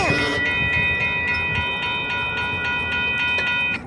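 A Union Pacific freight train rolls past a crossing in El Paso, a loud, close rumble with rhythmic wheel clacks and a sustained horn-like tone at the start.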